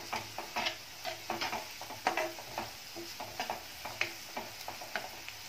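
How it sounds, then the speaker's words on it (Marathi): Chopped onion sautés in oil in a pan, a soft steady sizzle under repeated close scraping and stirring taps from a spoon, with no talking. "कांदा आहे तो तेलामध्ये अगदी 2-3 मिनिटच परतून घ्यायचा आहे"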